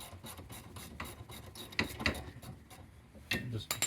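A ratchet wrench working on brake caliper bracket bolts of a 2003-2005 Acura TSX, giving quiet bursts of clicking ratchet strokes with metallic clinks close by, plus faint talk.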